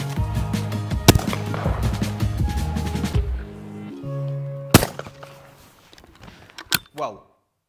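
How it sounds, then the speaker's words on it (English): A Beretta 694 Sport shotgun fires at clay targets, with sharp loud reports, one early amid a busy background and another near the end, and speech-like sound between. "That's some of the most comfortable shooting I've done for a while."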